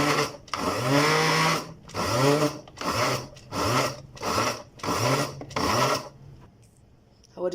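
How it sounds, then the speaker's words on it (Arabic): A meat grinder minces meat together with onion in repeated loud grinding runs, about six bursts each lasting under a second with brief pauses between, before falling quiet. "فانا هحط البصل مع اللحمه وهفرمهم كويس قوي مع بعض"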